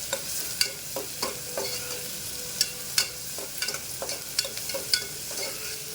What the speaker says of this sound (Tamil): 2 பெரிய வெங்காயம் அரிஞ்சு சேர்த்துருக்கேன். அதை நல்லா வதக்கிக்கலாம்.